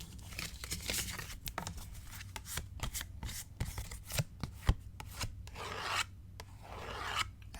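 A deck of tarot cards shuffled close up in a quiet room, with repeated riffling bursts and soft rubbing slides in an irregular rhythm, no talking.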